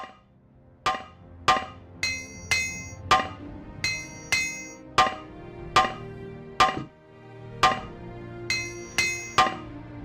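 Repair hammer striking armor and weapons in Morrowind, a series of about a dozen sharp metallic clanks with ringing overtones, struck in an irregular rhythm, close and loud with no talk.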